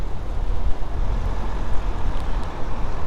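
Strong wind buffets the microphone in a continuous low, gusty rumble, with no voices.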